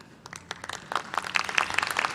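Scattered applause from friends and family in an auditorium at a university fall commencement for business and nursing graduates, claps building from sparse to denser over a couple of seconds.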